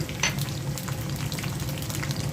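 Cauliflower goes into hot oil for a mixed vegetable chili pickle, setting off a steady, close, even sizzle that stays dense and unbroken throughout, with a brief brighter hiss near the start.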